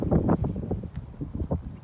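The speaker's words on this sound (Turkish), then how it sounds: "Rüzgar da beraber esmeye başladı. Umarım sesini duyuyorsunuz." Gusty wind buffets the microphone in low, uneven rumbling bursts, loud and close, near the coast at Ahmetbeyli, Turkey.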